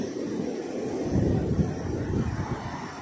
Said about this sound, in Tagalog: Subok sila ngayon, napakalalaki ng alon.